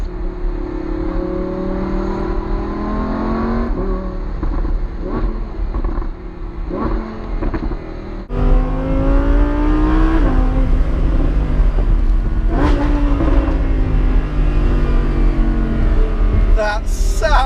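A Lamborghini Huracan Spyder engine revs loudly and continuously, pitch rising and falling with throttle blips, then surging louder partway through, close to the listener.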